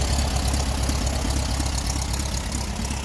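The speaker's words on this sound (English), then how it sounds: "as you can see, it's idling much better now." A VW Split Window Bus engine idles steadily close by after a carburetor screw adjustment, a continuous low rumbling chugging drone with no talking.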